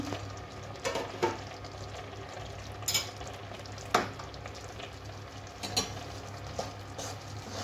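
Basanti pulao stirred in a pot before cashews and raisins go in: a spoon scrapes and taps the pot at irregular moments over a soft continuous sizzle and a low hum, close by.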